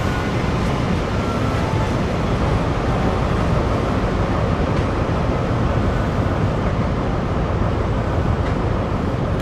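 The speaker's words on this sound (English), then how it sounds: "Here comes the back of the train." A Class 43 HST train in Train Sim World rolls past with a continuous low rumble and rushing noise, steady and fairly loud, with no voices.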